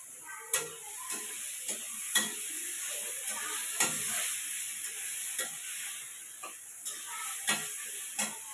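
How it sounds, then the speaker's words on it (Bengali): Tengra fish sautéing with onion and ginger paste, a steady soft sizzle broken by irregular scraping stirs of a spatula in the pan, close and moderately quiet with no voices. "তো মাছগুলো কষাইতেছি"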